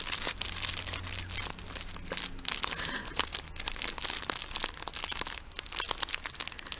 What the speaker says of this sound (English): Crinkling sounds.